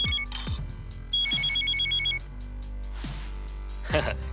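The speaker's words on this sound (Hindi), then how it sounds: "भाई आपका फोन आया है" An electronic telephone rings in short repeated bursts, with a few thumps and background noise around it.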